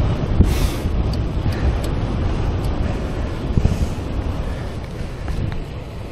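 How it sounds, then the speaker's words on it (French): Strong wind buffets the microphone of a cyclist riding an old Mercier sport bicycle at the Vincennes polygon, a steady low rumble filling the whole stretch with no break. "il y a beaucoup de vent"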